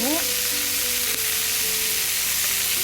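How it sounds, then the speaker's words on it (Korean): Blanched bok choy and crab sticks stir-frying in a preheated pan with a little avocado oil, a loud, dense, close hiss that holds steady for a few seconds, with a faint clink of a utensil. "얘를 살짝 볶아줍니다"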